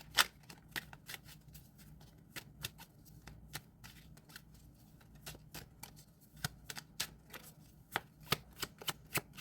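Tarot cards are shuffled close by in quick irregular bursts of crisp riffling snaps, soft and intimate, with brief pauses between runs and no speech.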